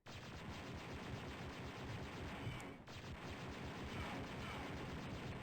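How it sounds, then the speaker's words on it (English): An Imperial Repeater in the 1995 game Dark Forces fires in a sustained, dense, rapid burst lasting several seconds, loud and continuous, with a brief dip partway through and no talking. "Let's try the Imperial Repeater."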